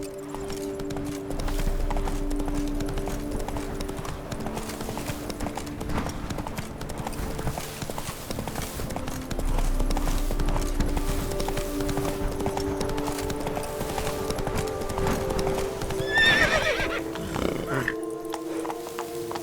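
Horse hooves gallop in a steady clip-clop under game music in The Witcher 3, with a brief whinny near the end; a voice talks over it at times.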